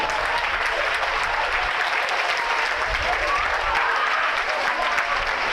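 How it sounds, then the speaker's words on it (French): A church congregation claps and cheers steadily for Jesus during a service, a dense continuous wave of applause with voices mixed in. "Tu peux te lever derrière pour acclamer Papa Jésus."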